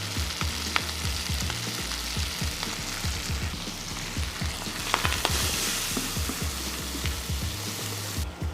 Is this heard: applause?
no